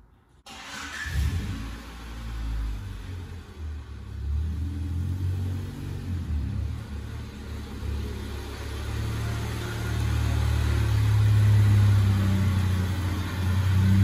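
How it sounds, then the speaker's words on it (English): A 1995 Honda Civic rolls into a garage, its engine a low close rumble that swells as the car moves and grows louder toward the end, with no talking. "I'm gonna go ahead and pull the Honda in now."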